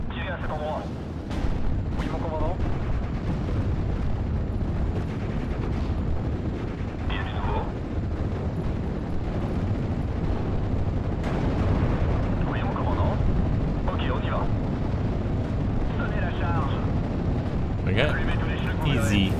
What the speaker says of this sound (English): Time to demonstrate how to use the 105 mil to take out an 88